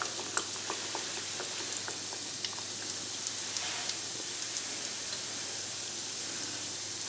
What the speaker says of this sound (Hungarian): Betesszük az olajba őket.